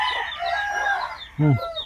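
Chickens cluck and call nearby, then a short loud crow from a fighting rooster cuts in near the end.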